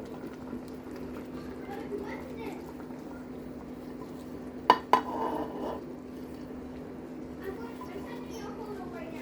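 Zucchini and broccoli drop into a pot of boiling water, giving two close clattering splashes and a brief burbling amid a low steady bubbling.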